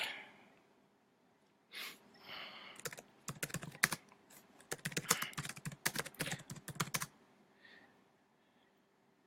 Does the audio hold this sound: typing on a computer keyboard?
yes